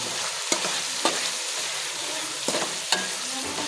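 A spoon stirs and scrapes through a chicken and chopped cabbage filling sizzling in a pan, the steady frying hiss broken by a few sharp scraping knocks at intervals.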